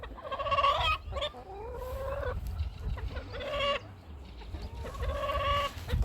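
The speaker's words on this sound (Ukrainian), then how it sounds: "А це їхній півник." Chickens cluck and a rooster calls in repeated bursts nearby, with a steady low farmyard rumble underneath, at a farmyard in Yaremche, Ukraine.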